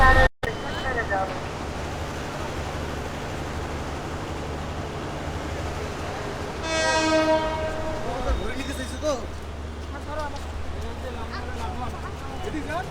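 A train horn sounds once in a long, loud, steady blast mid-way through the clip at a railway station platform, over a constant low rumble of the waiting train, with voices audible around it.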